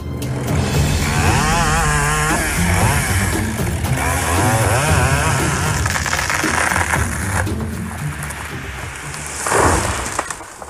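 A Husqvarna chainsaw felling timber, loud and close, its engine revving and bogging in waves as it cuts, then easing off before a brief sharp burst near the end.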